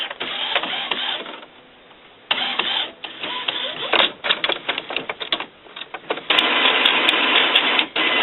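An Epson WorkForce WF-7620 class inkjet printer runs its ink system preparation, giving off a steady mechanical whir with repeated clicks and bursts of carriage and pump noise, close up and loud, with no talking.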